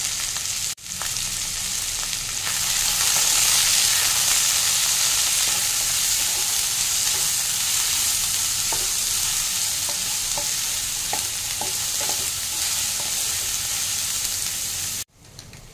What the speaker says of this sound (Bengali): এবার এটা ভালো করে নিয়ে ফ্রাই করে নেবো